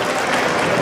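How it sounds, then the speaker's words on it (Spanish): A brief, dense burst of crowd applause at a Workers' Day party raffle for Maritime, loud and close, lasting under a second. "aplauso para el caballero, por favor."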